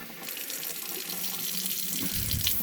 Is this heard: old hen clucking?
no